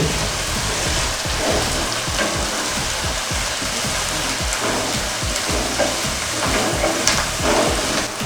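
Mint and coriander leaves are stirred into biryani masala frying in a pot for Hyderabad chicken biryani, giving a loud, steady sizzle with repeated scraping strokes of the spoon, close and without voices.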